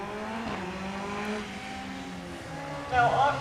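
A Caterham R300 race car with a 2-litre Duratec engine and sequential gearbox runs at a hill sprint, its engine a steady drone that swells louder near the end, with a voice speaking over it.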